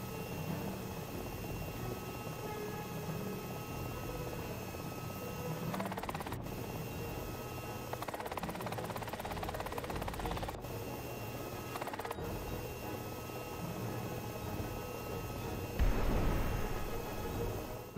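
A helicopter in the War Thunder video game hums steadily with a rotor drone and mechanical whirring, joined by intermittent ratcheting clicks and brief bursts of louder noise, moderately quiet throughout.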